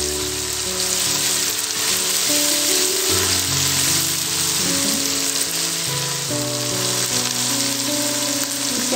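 Onion frying in a pan together with garlic-ginger paste, tomato and green chillies, giving a loud, continuous sizzle close up, broken by scraping stirs and with no voices.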